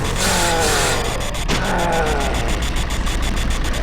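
A car engine idles in a zombie video game, a steady mid-pitched rumble with a faint rhythmic throb, close and continuous with no voices.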